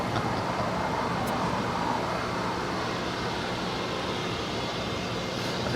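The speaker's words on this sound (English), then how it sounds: "That was American Airlines Flight 2112 heading to Dallas, Texas, on that A321neo." An American Airlines A321neo jet at LAX, heard as a steady broadband engine roar that stays loud and constant with no talk over it.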